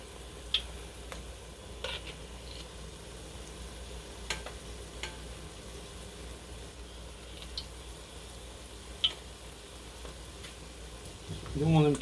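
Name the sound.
Belgian smoutebollen dough balls frying in fat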